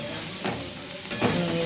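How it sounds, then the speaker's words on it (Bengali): Vegetables frying in a pan with salt for noodles, stirred with a couple of quick scraping strokes over a continuous soft sizzle. "নুন দেওয়ার পর একটু নাড়িয়ে নেবো"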